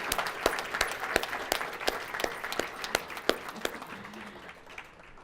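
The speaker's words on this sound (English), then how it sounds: "Let's give them all a big round of applause." An audience at an annual youth awards event claps for families and supporters, a full crowd applause with distinct loud claps standing out through the wash, fading toward the end.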